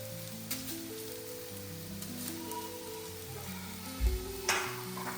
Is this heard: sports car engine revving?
no